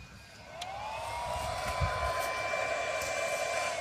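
A Selkon AC/DC borewell pump motor drive switching on, with a rising electronic whine that climbs in pitch and settles into a steady tonal hum, moderately loud and close, with no talk.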